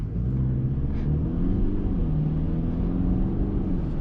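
Steady road and engine rumble from inside a 2024 Mercedes E-Class sedan moving on a highway in eco mode, with a low droning tone that slowly rises and shifts as the vehicle gains speed.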